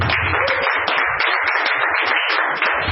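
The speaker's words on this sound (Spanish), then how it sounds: "¿Cuántos le dan un aplauso a Cristo?" A church congregation applauds during a Spanish-language sermon: dense, steady clapping from many people that fills the whole moment at an even level.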